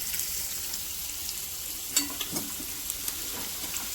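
Vegetables and paneer sauté in a pan for paneer chilli, a steady hiss of sizzling with a few soft clinks of stirring, close and alone.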